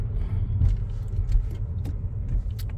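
A car engine accelerating during a driving lesson, a low steady rumble heard from inside the cabin, rising slightly, with faint clicks and rattles above it.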